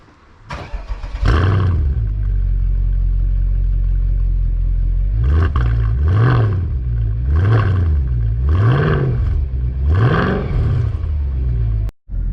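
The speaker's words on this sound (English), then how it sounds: "Let me go and start this car up so you can hear the sound" A Mercedes-Benz CL63 AMG V8 engine cranks and fires into a loud, deep idle, then is revved five times in a steady rhythm before cutting off.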